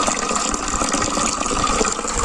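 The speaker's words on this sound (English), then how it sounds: "Very cold water, so refreshing. This is from our spring water source" Cold spring water pouring steadily from its source at a permaculture food forest, a loud, continuous gushing splash with no voices.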